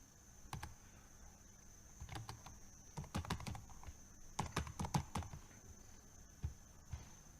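A password is typed on a computer keyboard in a quiet room: irregular, close, soft key clicks in small clusters over a faint steady hum.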